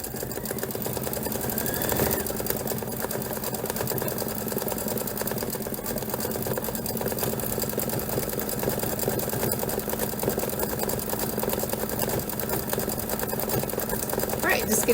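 An embroidery machine stitches a rainbow-arch decorative design in dark pink thread on a hoop sampler, a steady rapid mechanical chatter running loud and unbroken throughout.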